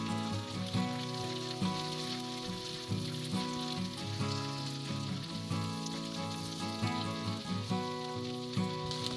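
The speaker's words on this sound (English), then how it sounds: "Then stir and allow the ginger and garlic to be infused into the oil." Ginger and garlic sizzle steadily in hot oil while being stirred for a mushroom masala gravy, a continuous frying hiss that sits under loud, prominent background music throughout.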